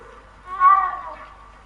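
One soft, drawn-out meow from a cat in a Hogwarts video game, fairly close and clear against a quiet background.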